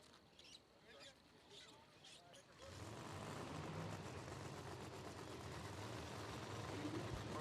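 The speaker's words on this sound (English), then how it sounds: "the command's given to fire the engines" Pro Nitrous drag racing car engines fire up at a drag strip, with an abrupt start into a dense, steady, roaring wall of sound that holds loud through to the end after quieter speech-like activity beforehand.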